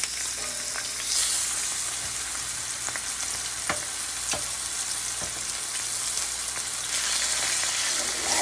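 Chicken pieces sear in a hot skillet for a smothered chicken one-pan meal, giving a steady, close frying sizzle with occasional sharp pops and crackles throughout.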